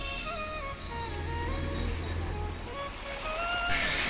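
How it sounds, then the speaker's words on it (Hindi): Water runs down into an irrigation canal from a small channel above in a hillside village, a steady rushing wash up close. Faint speech-like tones drift over it. "ये इस किनाल के अंदर पानी ऊपर से आ रहा है"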